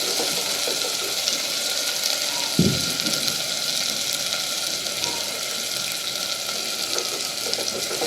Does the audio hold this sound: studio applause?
no